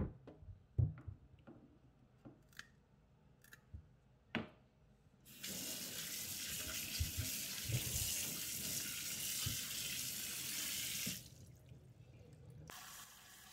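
Peeled sweet potatoes rinsed under a running kitchen tap: a few scattered clicks and knocks, then a steady rushing stream of water for about six seconds before it cuts off, with a final clunk.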